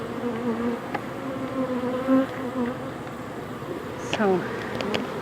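Bees buzz steadily around a hive entrance, with several wavering drones passing close by, and a voice speaks briefly over them.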